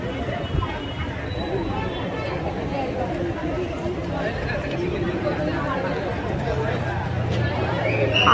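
Dense crowd chatter fills the ISKCON Sri Sri Radha Madan Mohanji temple in Kharghar, Navi Mumbai, a steady babble of many voices with no single speaker standing out, holding level throughout.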